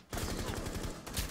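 Rapid gunfire in a Rainbow Six Siege match, a fast string of loud, close shots in a steady burst lasting about a second.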